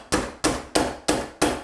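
Hammer tapping a door hinge into the wood before the screws are tightened, five sharp evenly spaced knocks up close with no talk.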